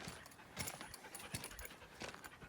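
A dog at a mountain trailhead pants quickly and softly up close, a steady breathy rhythm against light outdoor background noise.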